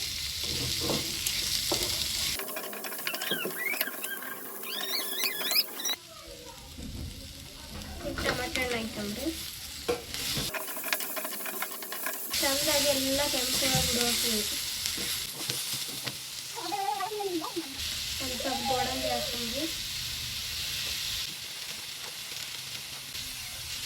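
Paneer masala gravy ingredients fry in hot oil until reddish, giving a steady close sizzle with bursts of stirring and scraping that come and go across the clip, while a voice speaks in places.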